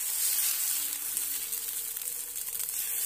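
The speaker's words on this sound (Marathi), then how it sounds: "आता आपल्याला हलक्या हाताने तव्यावर पसरून घ्यायचं आहे।" Rava dosa batter spread thin on a hot oiled tava gives a steady, close, crackling sizzle that runs unbroken throughout with no voices.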